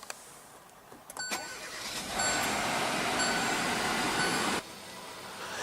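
A click and brief whir, then a 2017 Hyundai Tucson's 1.6-liter turbocharged inline four-cylinder engine starts and roars for a couple of seconds before dropping to a steadier idle hum nearby.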